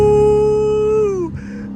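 A 900 HP Dodge Hellcat's supercharger sings a loud, steady high-pitched whine that holds for over a second, then slides down in pitch and fades into a low engine rumble.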